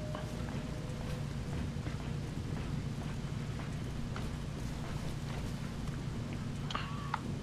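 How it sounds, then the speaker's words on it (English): Steady, hissing rain falls in the video game Dead Island: Riptide, an even wash of noise with faint low rumbles and a few scattered taps throughout. "I really do not like this rain"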